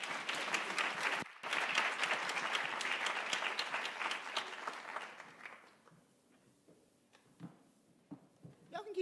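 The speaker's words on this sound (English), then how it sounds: "Y'all can keep clapping as they make their way up to the stage." An audience at a literary activism summit claps loudly and steadily for several seconds, then the applause thins out to scattered claps and crowd noise.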